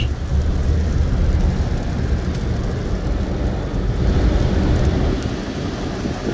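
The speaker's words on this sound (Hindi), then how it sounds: "तो ये देखें बारिश हो रही है" Steady, dense rain hisses loudly and evenly throughout, with no voices.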